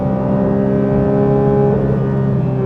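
Porsche GT3 engine held high at 9,000 RPM on a race track, a steady, loud, harmonic-rich wail sustained without a break.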